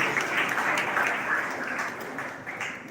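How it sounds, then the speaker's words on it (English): Students applaud at a school Diwali celebration, a thick round of many hands clapping that swells early and then slowly tapers off over about three seconds, with no talk over it. "Students, please give a big round of applause."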